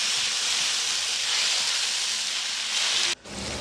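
Strong, steady hiss of masala sizzling in a pan just after water is added on a low flame, loud and continuous, then cutting off sharply near the end.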